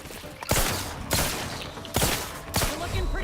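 Four sharp bursts of video game gunfire land about once every half second to a second, loud and close, over a constant busy background of game noise.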